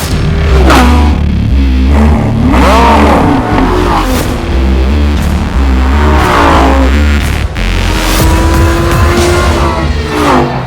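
A high-revving 5.2-liter V10 engine of a Lamborghini Gallardo LP 550 roars and climbs through repeated revs, loud and close, with rising and falling pitch sweeps and occasional tire noise.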